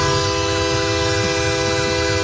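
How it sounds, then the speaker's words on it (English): A neighbour's train horn blares continuously from a house, a loud steady sustained honk with stacked harmonic tones filling the whole moment, no voices over it. "this guy will not stop blaring a train horn from his house because he's upset with the cops"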